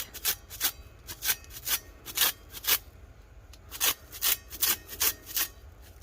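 Rhythmic scratchy rubbing strokes on tacky, drying alcohol ink on an epoxy tumbler, a dozen or so short rasping passes close up, with no talking.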